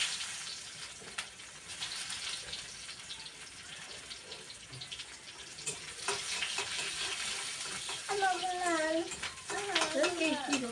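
Chopped onions fry in a pan with a soft, steady sizzle heard close up, while a voice chirps faintly near the end.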